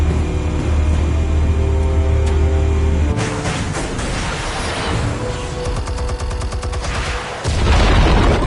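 Explosives detonating in a Batman video game: a loud, deep booming blast with a rumbling low roar, then crackling debris and a rapid rattling burst before another heavy low rumble.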